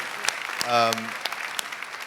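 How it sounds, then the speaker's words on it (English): A few scattered claps from an audience for a fitness panel at a keto conference, sparse and fairly close, with a voice speaking briefly in the middle. "I'd like everyone to give a round of applause for our panel"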